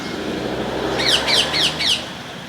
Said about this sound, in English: Parakeets up in that tree. Noise they make.